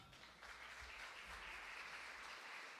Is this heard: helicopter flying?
no